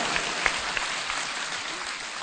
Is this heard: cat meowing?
no